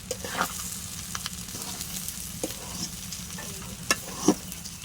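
Rice and spices such as cinnamon and bay leaves frying in oil in a pot for khichuri, a soft steady sizzle broken by scraping stirs and a few sharp clacks of a spoon against the pot, close and with no voices.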